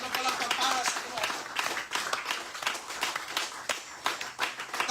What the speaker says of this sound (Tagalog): Palakpakan nato ang Diyos.